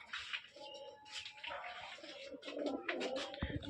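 Giribaj pigeons coo softly with repeated low throaty calls that overlap one another, close by at a moderate level, with faint rustling and a light knock at the end.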